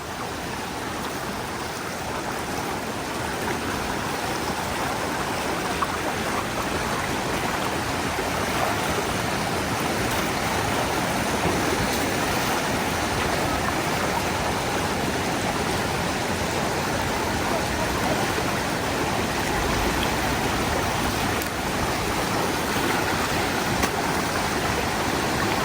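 Flash floodwater pours through overflow culverts in a loud, unbroken roar of rushing water that holds steady from start to finish, with no voices.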